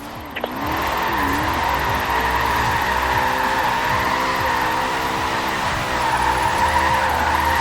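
In the video game Forza Horizon 4, a car drifts at a drift club circle, its tyres squealing in a long, loud continuous screech over the droning engine, starting after a brief opening and holding steady to the end.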